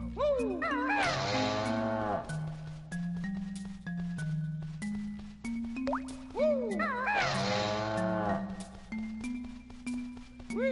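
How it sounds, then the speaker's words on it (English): Two cartoonish cow moos from the Banjo-Kazooie video game, each a bending, sliding low call about six seconds apart, set over a bouncy game music backing. "every cheat you'll find on the internet starts with cheat, and you'll hear a moo sound."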